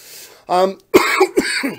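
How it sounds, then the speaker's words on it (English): A single throaty cough or throat clearing up close, followed by someone speaking. "I'm starting to cough more."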